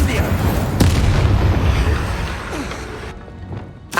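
Incendio fire spell in Hogwarts Legacy, a loud booming whoosh of flame amid dense battle noise, with repeated heavy bursts fading near the end, and a voice calling out over it.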